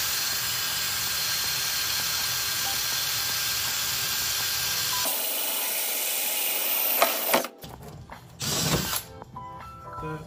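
A 4.5-inch hole saw spins and grinds through a plastic container for several seconds, loud and close, then stops abruptly, followed by brief rattling and clattering as the cut piece and tool are handled.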